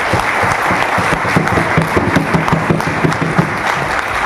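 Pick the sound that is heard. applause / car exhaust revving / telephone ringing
applause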